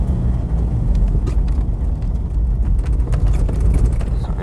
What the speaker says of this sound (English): just letting the car go by